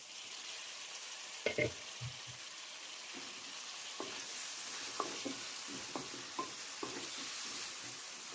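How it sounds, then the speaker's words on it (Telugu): Onions, green chillies and curry leaves fry in a pan with a soft, faint sizzle, punctuated by a series of light spatula taps and scrapes at irregular intervals. "ఫ్రెండ్స్ చూడండి, ఆనియన్స్, పచ్చిమిర్చి బాగా ఫ్రై అయ్యాయి. ఇప్పుడు కొద్దిగా కరివేపాకు వేసుకున్నాం."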